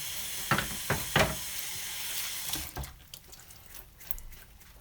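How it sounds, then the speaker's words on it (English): Bar Keepers Friend cleaner being stirred in water inside antique bottles, giving a watery swishing and fizzing with a few sharp clinks early on, close and fairly quiet over a steady hiss. "If you're not using this Barkeeper's Friend, it is excellent. Get it all stirred up."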